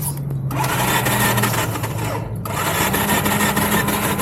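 A small engine turns over with a steady, rapid mechanical chatter, cranking continuously without catching, close and fairly loud.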